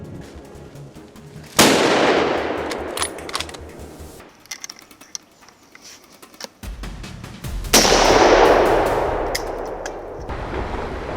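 Several loud, sharp gunshots crack out in bursts at a herd of wild boars in Italy, with bangs clustered near the start and again later, echoing between quieter gaps.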